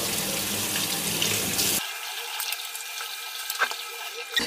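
Tap water running over and rinsing the grinder unit of a Cecotec Matic-ccino 7000 coffee machine to wash out coffee residue, a steady close splash that shifts to a thinner stream partway through, with no talking.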